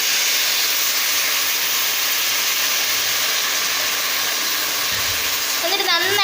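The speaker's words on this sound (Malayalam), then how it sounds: "ഇനി നമുക്കിതിലേക്ക് നമ്മുടെ പുളിവെള്ളം ഒഴിച്ചു കൊടുക്കാം" Tamarind water is poured into a hot pan of bitter gourd curry and hisses into a loud, steady sizzle that carries on unbroken, with a short burst of voice near the end.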